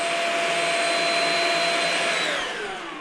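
A Shark Rocket Deluxe Pro vacuum cleaner running steadily with a loud, close whine and airy rush, its pitch sliding down slightly toward the end as it begins to wind down.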